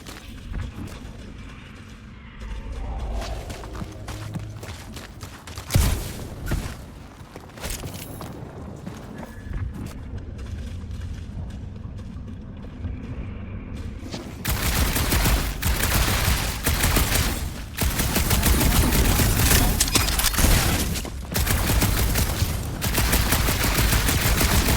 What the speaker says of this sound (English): What are you firing at, Peter Quill?